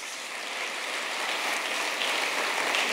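Audience clapping at a motivational business speech event, a dense steady wash of many hands applauding that swells slightly louder over a few seconds, heard alone without talk.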